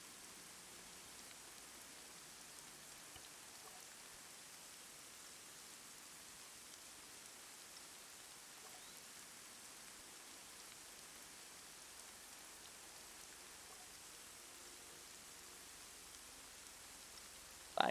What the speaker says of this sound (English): I think that's just the rain.